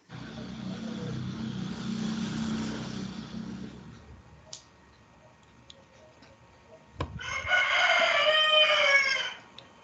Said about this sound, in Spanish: Ya hasta el gallo cantó